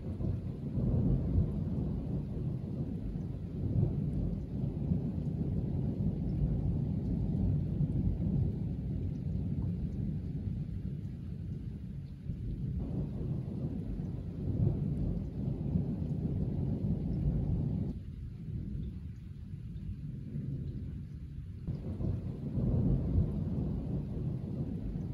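Low rolling thunder and steady rain from a thunderstorm in Italy, a continuous muffled rumble at moderate level that dips and swells over about twenty-five seconds, with no voices.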